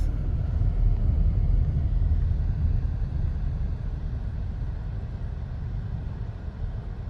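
A Nissan car easing slowly to a stop under ProPilot Assist, a low steady road and engine rumble that fades gently as the car loses speed, heard from inside the cabin.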